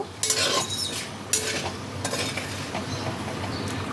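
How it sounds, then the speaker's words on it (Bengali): Potatoes are turned in hot oil with fenugreek and radhuni seeds, giving a busy metallic stirring scrape in short bursts over a soft sizzle, close up and with no one talking. "আলুটাকে কয়েক সেকেন্ড তেলের মধ্যে নাড়াচাড়া করে নেব"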